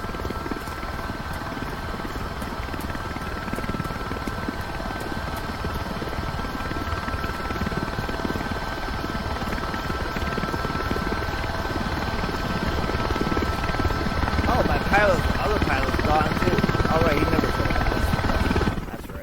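A helicopter rotor spins up for lift-off in Microsoft Flight Simulator 2024, a loud, steady, whirring drone with a constant engine tone that swells slightly as power increases across the whole stretch.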